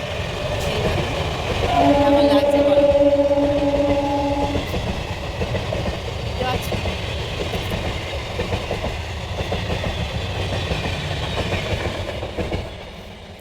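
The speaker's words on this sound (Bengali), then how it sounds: "পিছন দিয়ে যাচ্ছে আবার সেই ট্রেন যাচ্ছে আমার বাড়ির পিছন দিয়ে।" A train rolls past behind a house with a garden after rain, a steady rumbling, clattering passage with a tonal horn-like note early on, moderately close, while a person speaks briefly over it.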